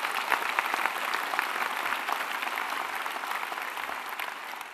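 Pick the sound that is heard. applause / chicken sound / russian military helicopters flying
applause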